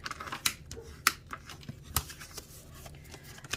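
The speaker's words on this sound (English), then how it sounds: "Use my bone folder to get a good crease." A bone folder presses and swipes along a fold in card stock for a birthday card, giving a few crisp, close papery scrapes and taps among quiet rustling of paper.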